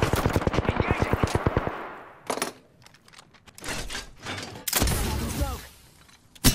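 Rapid machine gun fire rattles in a video game firefight, with a fast, even burst up front and then scattered loud shots and bursts, under a mix of game sounds and voices.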